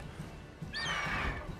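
Horse in The Witcher 3 video game whinnies loudly under a griffin attack, a single rising, quavering neigh that fades out, following a brief low rumble.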